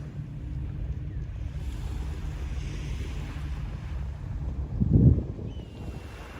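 Low, steady wind rumble on a morning beach near Tokyo fills the recording, with a brief stronger gust buffeting the microphone near the end.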